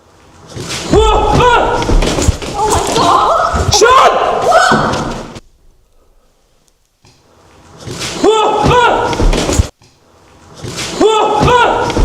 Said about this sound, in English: The door suddenly slammed shut behind him.